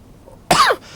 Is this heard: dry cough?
yes